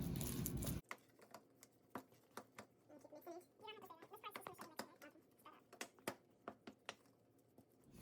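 Nigerian puff puff dough, made with warm water, is mixed by hand up close, giving irregular soft slaps and sticky clicks in an uneven rhythm, with a brief murmur of voice midway.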